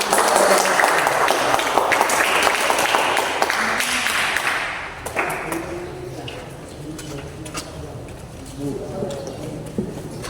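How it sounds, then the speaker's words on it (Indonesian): An audience applauds a school history drama about the Diponegoro War, staged for Heroes' Day at SRMA 31 Pekanbaru. Dense, loud clapping fills the first half, then fades into voices and room murmur. "Tepuk tangannya dulu."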